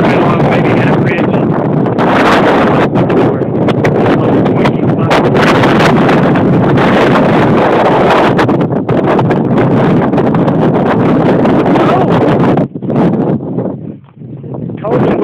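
Strong wind roars and buffets the microphone continuously, loud and broadband throughout, easing briefly near the end.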